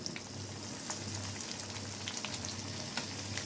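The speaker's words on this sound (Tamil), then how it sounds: "ஃப்ரை பேனில் வச்சு பொரிச்சு எடுத்துக்க வேண்டியது தான்." Steady crackling sizzle of karunai kizhangu (elephant foot yam) frying in a frying pan, continuous and close, with a low hum underneath and no voices.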